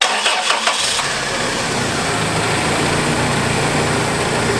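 A car engine cranks with a few quick stuttering turns, then catches and settles into a loud, steady running rumble close by.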